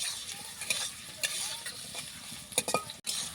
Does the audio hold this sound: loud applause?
no